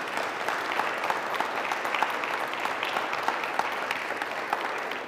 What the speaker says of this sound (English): Please give them a round of applause and welcome and congratulations.